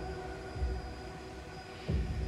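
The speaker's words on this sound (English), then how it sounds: "I hate it that we're in a train tunnel." Low train-tunnel ambience from the video game Little Nightmares II rumbles continuously, with a deep droning hum and two heavier thumping swells rising near the middle and end.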